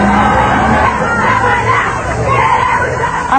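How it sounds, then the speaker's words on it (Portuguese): Loud crowd commotion at a morning job queue in Rio de Janeiro in 1994, with overlapping yelling, shouting and babble forming a dense, continuous roar and no clear single voice. "Muita confusão, gritaria e desmaios hoje de manhã na fila por um emprego."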